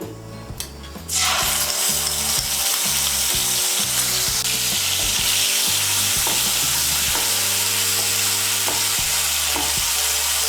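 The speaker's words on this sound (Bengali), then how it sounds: "টমেটো বাটাটাকে ভালো করে তেলের সঙ্গে মিশিয়ে নিয়ে" Ground tomato paste hits hot oil with tempered spices for a Bengali sweet pumpkin roast, bursting into loud, steady sizzling that goes on unbroken while a utensil stirs and scrapes the pan close up.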